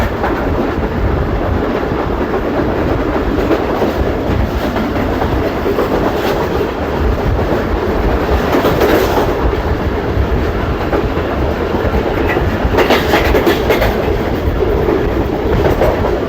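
Aboard the Tezgam 8 Down passenger train, steady rumbling and clickety-clack of wheels over rail joints run continuously and loudly, with a rushing roar as the train moves along.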